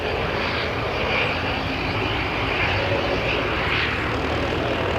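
An arriving aircraft drones with a loud, steady engine roar that holds unbroken throughout at an airport plane-spotting session, with no talking.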